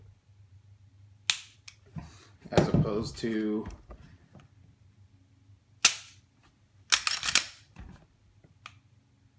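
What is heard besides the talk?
reset mechanism making a pop click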